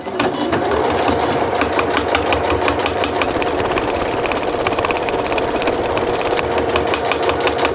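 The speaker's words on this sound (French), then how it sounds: "Là, je vais piquer mon morceau de tissu à 5 mm comme je vous l'ai précédemment expliqué." Sewing machine running steadily as it stitches a strip of fabric 5 mm from the edge for homemade bias binding, a loud continuous mechanical whir with fast rhythmic needle chatter throughout.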